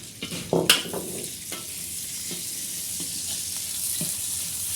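Onions dropped into a pan with bitter gourd sizzle and fry, with a few loud clattering knocks of stirring near the start and then a steady hiss, close up and alone with no talk.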